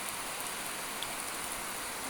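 Heavy rain falls steadily during a storm in rural Laos, making a dense, even hiss with faint patters of drops. It is heard alone, with no voices.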